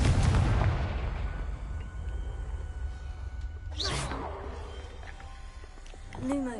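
A Confringo fire spell explodes in Hogwarts Legacy with a loud, booming blast that rumbles and fades, followed by a whooshing swish and smaller magical effects, all under a continuous battle din.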